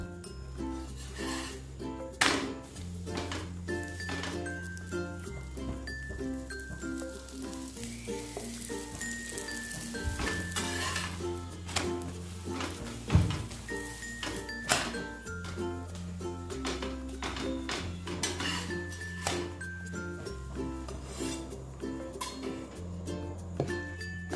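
A paratha frying in oil on a hot pan, steady sizzling with clinks of utensils against the pan and music playing throughout.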